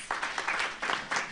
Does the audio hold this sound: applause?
yes